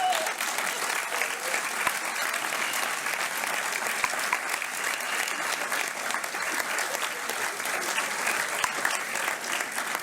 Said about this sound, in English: Please give a warm round of applause to Peyton Duff and Maxwell Max Cody